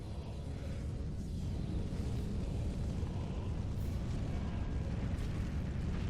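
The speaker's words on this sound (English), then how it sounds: "there is a large AoE explosion coming." A large area explosion goes off in Dark Souls 3, a heavy, rumbling boom that spreads out into a long, loud, sustained roar.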